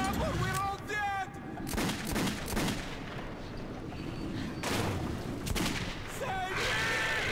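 Gunfire in the video game Metro 2033 during a mutant attack, sharp repeated shots amid a noisy, chaotic struggle, with shouting voices over parts of it.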